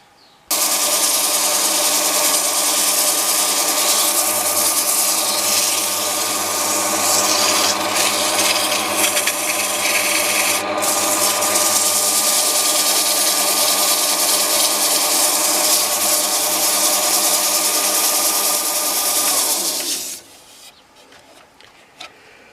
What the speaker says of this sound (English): Sand it down a little bit,